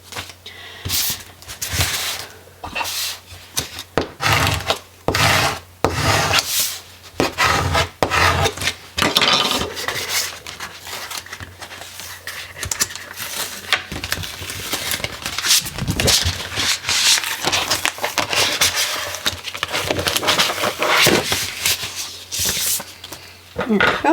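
Cricut-cut labels trimmed by hand, giving repeated close rasping snips and paper rubs in irregular bursts over a long stretch, with no voices.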